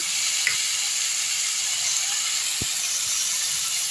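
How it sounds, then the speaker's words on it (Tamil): Brinjal, onion and tomato sauté with salt and spices in a pan, an even close sizzling hiss throughout with one brief knock of a utensil and no voices. "நல்லா வதக்கியாச்சு பச்சை வாசனை போயிடுச்சு"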